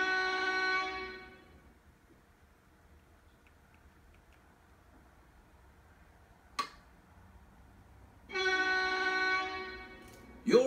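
A deep, sustained foghorn blast sounds twice by a dock, in a Thomas and Friends game, separated by a quiet stretch with a brief sharp knock between them.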